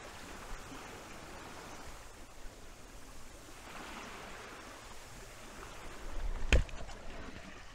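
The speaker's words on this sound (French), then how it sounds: "Entendez-vous les vagues?" Gentle waves lap at the water's edge at Matane on a calm morning, heard close up as a soft steady wash with slow swells and a brief louder thump near the end, with no voices.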